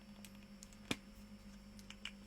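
Ink pens are handled and capped and uncapped at a desk, giving a single sharp close click followed by faint, scattered light ticks over a quiet room hum.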